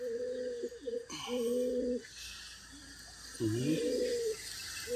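Pigeons kept near a cage coo close by in a series of low, rolling calls with short pauses between them, and faint background noise runs underneath.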